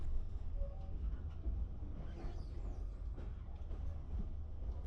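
A Vietnamese night train pulls slowly out of a station, a steady low rumble with faint clanks and rattles of the cars building underneath, continuous and fairly close.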